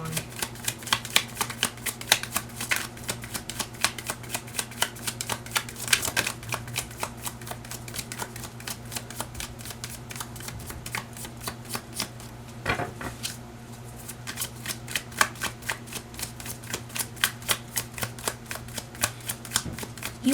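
Tarot cards being shuffled in rapid, continuous riffling flicks, steady and close for the whole stretch over a faint low hum.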